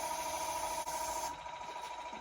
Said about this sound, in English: before I do the sanding. Otherwise it clogs up my sandpaper.